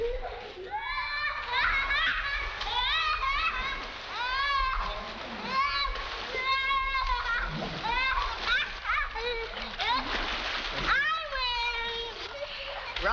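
Children splashing while swimming, with water slapping and churning throughout as excited young voices shout and chatter close by over the splashes.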